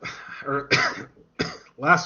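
A person clears their throat and coughs a few times in short, close bursts separated by brief pauses.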